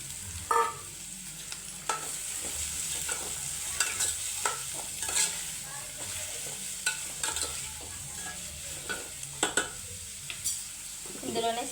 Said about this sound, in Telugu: ఇందులోనే సన్నగా కట్ చేసి పెట్టుకున్న ఆనియన్స్ ముక్కలు,